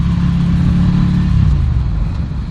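A Ducati Scrambler Café Racer motorcycle engine rumbling loud and close, a deep steady throb that eases slightly near the end as the rider works through a stiff gear change.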